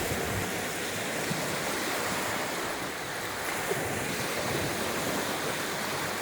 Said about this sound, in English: I love to hear the sound of the water. A lot of waves out there.